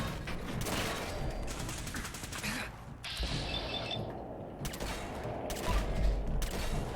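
Video game gunfire crackles in dense bursts of shots alongside mechanical clicks and clatter, continuous and busy throughout.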